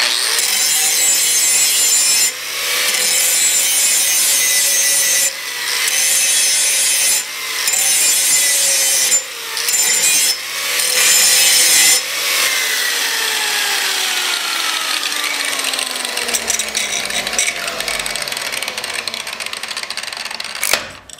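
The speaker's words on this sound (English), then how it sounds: "There's angle grinder" An angle grinder sharpening a lawn mower blade, a loud high grinding rasp in repeated passes separated by short breaks, then a long stretch where the motor's whine gradually drops in pitch as it spins down.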